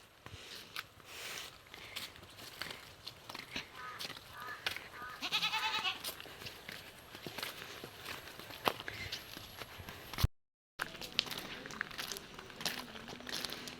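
A goat bleats amid outdoor rustling and footsteps, its wavering call standing out near the middle among scattered handling noises, with a brief dropout before the rustling resumes.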